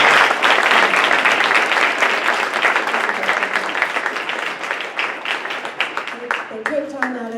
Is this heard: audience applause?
yes